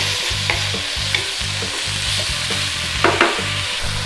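Soy sauce and oyster sauce stirred through beef in a hot frying pan for a Thai pad kra pao, steady sizzling with a regular rhythm of spatula scrapes and a couple of sharper clinks near the end, no talking.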